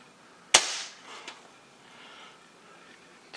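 One sharp air gun shot from a rifle fitted with a UAC Hi-Flow valve and AirSeal rubber gasket, close and loud, followed by a faint echo and then quiet.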